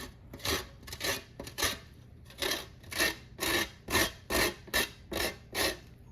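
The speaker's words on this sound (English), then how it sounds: "I've got a little cheese grater and I'm gonna use the lemon." A lemon that has already been juiced is rubbed against a small cheese grater for zest, giving steady rhythmic rasping strokes, about a dozen scrapes in a row, close and fairly quiet with no talking.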